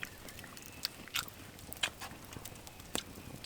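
Crisp bites and wet chewing on a slice of watermelon at a rainy wild campsite, a few sharp crunchy bursts spaced through quiet background, close to the mic.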